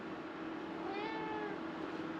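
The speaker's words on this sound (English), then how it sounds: "look at that kitty" A house cat meows once in a drawn-out, rising-and-falling cry over a steady background hiss, with no talking.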